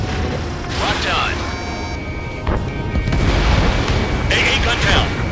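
An AA gun in Ace Combat 7 is destroyed, and a deep explosive boom rumbles over continuous jet engine roar, with radio chatter and missile-lock tones layered on top.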